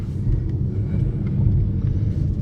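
Inside the cabin of a 2015 BMW i8 hybrid as it accelerates away, a low, steady engine and road rumble with a muffled hum that swells slightly, with no talking.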